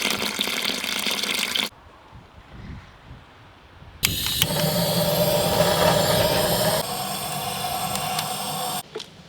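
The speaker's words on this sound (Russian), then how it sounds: "Зальем водичкой. Пусть минут 15-20 водички постоит." Water gushes from a tap over oxtails to soak them, a loud splashing fill that stops, pauses for a couple of seconds, then resumes as a steady heavy stream close by.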